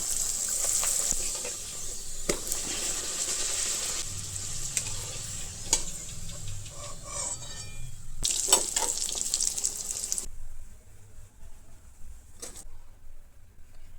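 Garlic dal puri fries in hot oil, a steady bubbling sizzle with occasional sharper crackles, close by, before it drops to a quieter hiss near the end.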